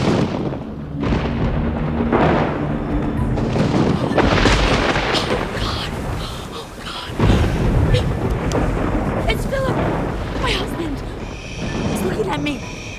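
Deep rumbling thunder rolls and booms through the clip, swelling and fading in long waves, with louder cracks partway through.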